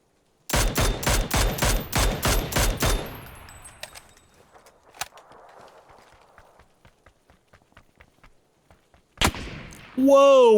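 A rapid string of about nine loud gunshots rings out in the battle-royale game PUBG, followed by quieter rhythmic footsteps and scattered noises, then one more sharp shot near the end.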